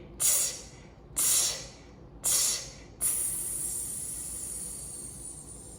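Three short sharp hissing bursts are followed by one long sustained hiss that slowly fades, all made by a voice imitating a train's brakes.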